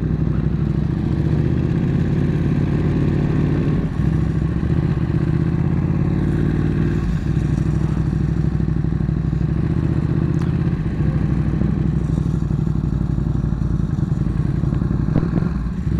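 Motorcycles idling and rumbling at an outdoor bike night in Royal Oak, a loud, steady, close engine drone for the full length with occasional thumps and slight revving, no talking.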